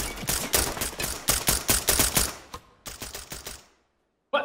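Rapid gunfire in the tactical shooter Ready or Not: a fast string of sharp shots in bursts, a short pause, another quicker burst, then silence and one last shot.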